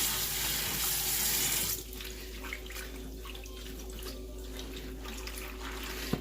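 Tap water runs steadily into a kitchen sink while collard greens are washed in salted water, a loud rushing stream that drops to a quieter splashing flow partway through, with no one speaking.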